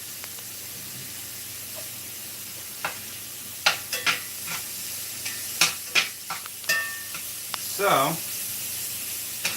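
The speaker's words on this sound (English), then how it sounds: "when I cook garlic for something like this, I cook it until it becomes very fragrant because I use elephant garlic" Elephant garlic frying in a pan, a soft sizzle with intermittent stirring clatter and scrapes, a brief voice heard near the end.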